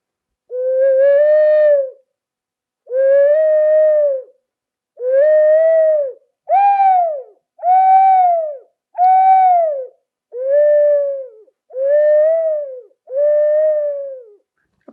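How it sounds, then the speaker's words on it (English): Ocarina playing a run of nine short, breathy hooting bird-call notes, each about a second long with slight pitch bends, separated by brief pauses, clear and close with no talk. "Then you have an ocarina. It's very nice, beautiful one to call for birds."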